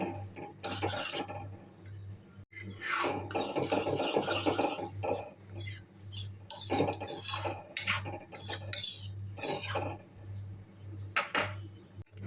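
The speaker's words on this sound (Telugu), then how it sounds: "అంతా ఒకసారి బాగా కలుపుకొని" Repeated scraping and clinking of a spoon stirring curry with a little water in a metal pot, irregular strokes over a low steady hum, close and fairly loud.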